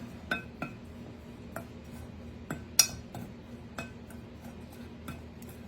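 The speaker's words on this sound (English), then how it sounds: "You want to get your cinnamon all mixed up with your brown sugar" A spoon mixes cinnamon and brown sugar in a bowl, giving sparse clinks and taps against the bowl at an uneven pace, close and fairly quiet, with no talking.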